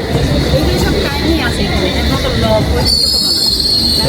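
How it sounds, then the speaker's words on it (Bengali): A train pulls into a station platform at Upton Park in England with a loud, steady rumble and high squealing wheels, the squeal rising sharply near the end while people talk nearby. "ট্রেন চলে এসেছে আমরা এখন ট্রেন উঠবো"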